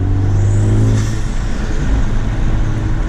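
A Honda Civic Type R FL5 with a Hondata Flash Pro tune accelerates under a steady engine drone and turbo spool, heard from inside the cabin at a constant loud level with no talking.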